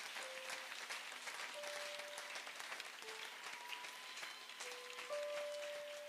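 A church congregation in Gabon applauds the Lord, a sustained, moderately distant wash of clapping with a faint held organ or keyboard tone running underneath.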